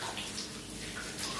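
Tap water runs steadily as hair is rinsed under a faucet, a continuous close splashing hiss with no pauses.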